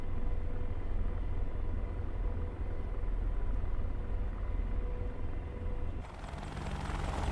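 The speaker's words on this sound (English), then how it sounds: "Taxiing a little faster now." An AH-64D Apache Longbow helicopter taxis in the DCS flight simulator, a loud continuous low rumble and engine drone that shifts in tone near the end.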